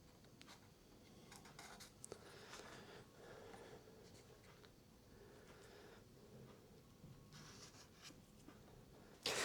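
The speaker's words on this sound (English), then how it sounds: "I'm just going to start drawing in the lines of where I want things to go" A pen or pencil scratches across paper while drawing lines for a Flying V guitar wiring plan. The strokes are quiet, close and intermittent, with a small knock at the end.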